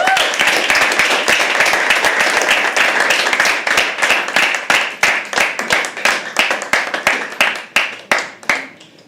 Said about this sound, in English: can we have a huge round of applause for Kritika?